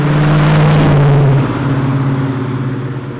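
A factory high-performance 454 big-block Chevrolet V8 roars loudly and steadily at high revs, then its pitch drops and settles into a slightly lower, rougher drone for the rest of the moment.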